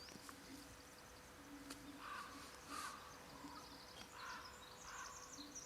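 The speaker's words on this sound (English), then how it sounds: "I hear the crow." A distant crow caws several times in an irregular series, faint over a steady background hum with high insect-like buzzing.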